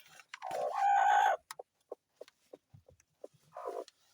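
A hen clucks beside her newly hatched chicks. There is one longer, louder call near the start, then a scatter of soft, short clucks and peeps spaced irregularly through the quiet that follows, all fairly faint.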